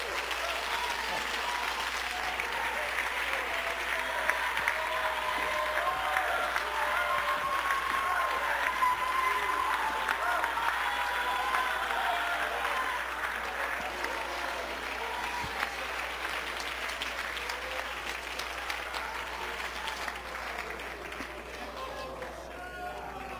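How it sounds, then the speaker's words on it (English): Standing members of an apostolic church congregation clap their hands to the Lord, a long, dense, steady roll of applause with a voice speaking over it for much of the time. "Stand to your feet right now and clap your hands to the Lord."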